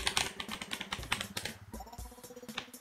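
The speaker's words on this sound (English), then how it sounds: "we'll type in a password for them" Rapid, uneven clatter of keys on a computer keyboard as a password is typed into a Linux terminal, close and clear with short pauses between bursts and no talking.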